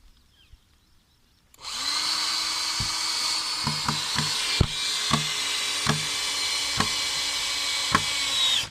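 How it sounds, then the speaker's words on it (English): A power drill drives a decking screw into wooden swim raft boards, a steady whirring motor broken by about ten sharp knocking bursts as the screw bites and seats, close and loud. "Put another decking screw in."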